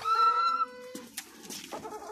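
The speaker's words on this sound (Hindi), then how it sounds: "यहाँ भी मुर्गी अंदर एक बैठी है अंडा देने के लिए।" A hen sitting inside a nest to lay eggs clucks and squawks close by, a drawn-out call followed by several short, broken clucks with faint rustling underneath.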